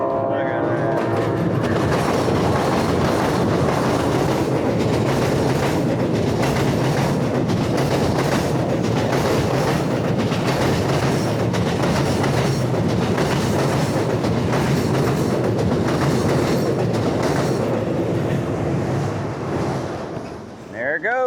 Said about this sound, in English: Here it comes. Oh man, the choo-choo's coming.